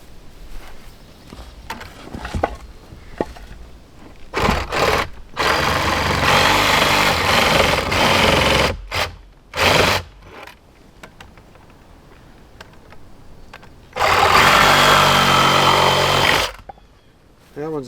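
A reciprocating saw cuts wood during a DIY hunting cabin build, running in loud buzzing bursts of a few seconds each, separated by quieter pauses with handling noise and footsteps.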